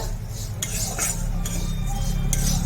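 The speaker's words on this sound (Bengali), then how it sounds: "এইভাবে নেড়ে নেড়ে একটু ভাজা করে নেব কিসমিস কাজু বাদাম দিয়ে" Rice with raisins and cashews stirred and lightly fried in a pan, giving steady close scraping and a few sharp metallic clinks of a utensil against the pan, with no talk.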